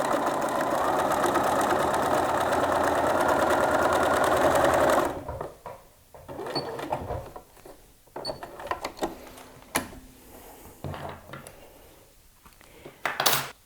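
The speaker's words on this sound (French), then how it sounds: "Je vais faire ma deuxième surpiqûre. Je place le pied presseur le long de ma première piqûre" A sewing machine hums steadily for several seconds while topstitching a flat-felled seam on denim jeans, then stops, leaving quiet clicks and the rustle of fabric being handled.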